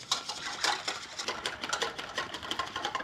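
A hand whisk beats cream in a bowl with fast, rhythmic metallic clicking and scraping. The strokes are quick and steady and close up, and the whole sound stays fairly quiet with no talking.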